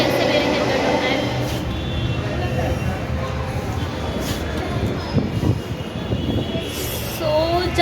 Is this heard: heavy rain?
no